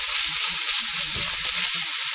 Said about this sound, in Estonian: siin on ära ilusasti praadinud, mõnusasti see paprika, sibul,